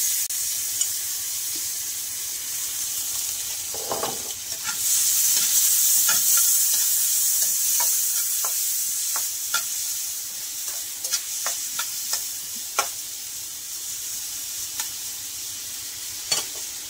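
Chopped onion and garlic frying in oil in a frying pan, a continuous bright sizzle that swells after a few seconds, with scattered clicks and pops from stirring, close up and alone.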